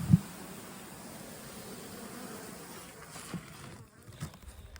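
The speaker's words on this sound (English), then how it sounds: "That's a lot of bees." A dense, steady buzzing of many honey bees around a hive hums throughout at moderate volume, with a few faint knocks and rustles, during work on late bulk splits.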